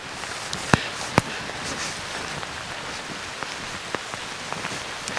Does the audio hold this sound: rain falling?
yes